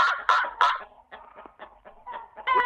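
Hens and chicks in a chicken coop cluck and chatter in quick, close bursts, with several short calls overlapping and fading in and out against a quiet background.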